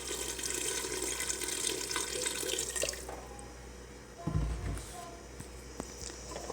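Water pours into a pressure-cooker pot of mutton and bottle gourd, a broad steady splash for about three seconds, then quieter trickles and a low thud from the pot.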